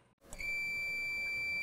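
A single sustained high electronic beep from a multimeter continuity test, probing between a pedal chassis box and the outside of an input jack, starting abruptly after a brief hush and holding steadily to the end.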